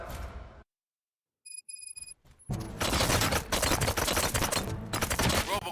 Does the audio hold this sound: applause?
no